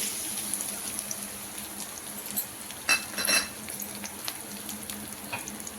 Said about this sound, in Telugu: దాంట్లోనే కరివేపాకు, ఇప్పుడు ఫ్రై చేసుకోవాలి